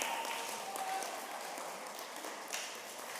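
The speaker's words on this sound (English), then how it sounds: "let's give him one more round of applause" At an eighth-grade graduation ceremony for a Catholic Montessori school, a roomful of people gives a final round of applause, a fairly faint, even spatter of clapping heard from a distance that tapers slightly toward the end.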